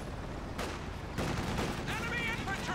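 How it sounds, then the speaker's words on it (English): Dual .50 caliber machine guns on a US half-track fire in a Company of Heroes 2 match, a dense rattle of gunfire bursts mixed with other battle noise while a commentator talks over it. "Quad 50 caliber suppressors. No, dual 50 calibers, not quad."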